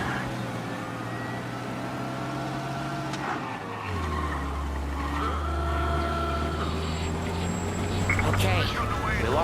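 A car engine in the video game Mafia: Definitive Edition drones steadily and then rises in pitch as it accelerates, with tire and road noise and game-like ambience around it.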